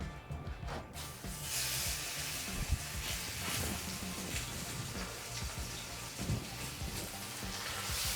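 Rabbit loin searing in a hot, oiled Lodge cast iron pan, a soft, steady sizzle and hiss that runs throughout at low level, with no speech.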